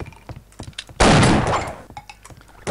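Enemy gunfire in Half-Life: Opposing Force: a loud, dense burst of shots lasting about a second, standing out against quieter game sounds before and after it.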